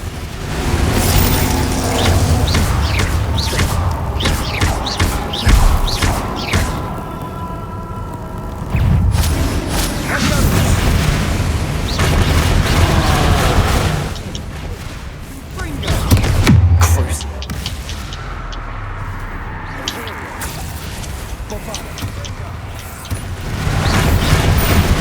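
Spell blasts from Bombarda and Confringo boom and slam in Hogwarts Legacy during a troll fight, a dense run of thuds and bangs over constant game noise, with a heavier hit near the middle.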